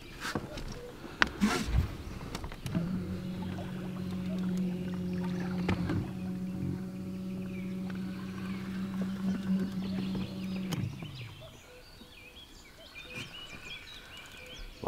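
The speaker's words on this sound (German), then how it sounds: "werden wir mit dem Boot hinterherfahren müssen" A boat moves along a small river during a carp-fishing trip, its steady motor hum holding for several seconds before fading out, with a few scattered knocks and splashes nearby and no talk.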